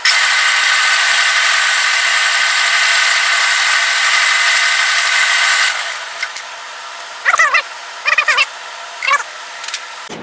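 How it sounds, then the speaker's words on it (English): A power drill bores straight through a plasma cutting table grid, a loud, steady grinding whine for about six seconds that then stops, followed by a few short, scraping bursts. "I'm going to try to drill right straight through."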